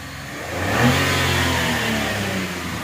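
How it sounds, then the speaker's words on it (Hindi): A 2019 Suzuki Cultus engine fitted with an HHO kit revs up close by, rising in pitch to a peak and then holding a steady, strained roar for a couple of seconds, with no talking. "तो अभी हम थोड़े से रेस देते हैं इसकी"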